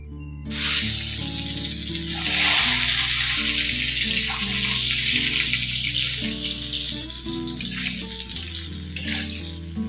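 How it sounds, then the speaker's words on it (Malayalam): Hot oil tempering with mustard seeds and curry leaves hits a bowl of cucumber pachadi, bursting into a loud sustained hiss and crackle that gradually settles, with music playing underneath. "കറിവേപ്പില ഇട്ട് സ്റ്റവ് ഓഫ് ആക്കിയിട്ടുണ്ട് ഇനി നമുക്കത് കറിയിലേക്ക് ഒഴിക്കാം"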